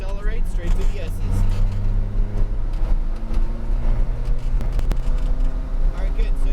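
A McLaren 570S GT4 race car's engine drones steadily at track speed with rising and shifting tones, heard from inside the car under an instructor's continuous coaching voice.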